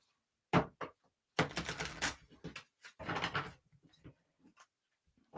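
A deck of tarot cards is shuffled, with several quick riffling bursts of papery flutters and taps, close and crisp, separated by short silent pauses.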